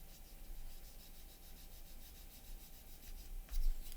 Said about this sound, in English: We'll just come along with a polisher.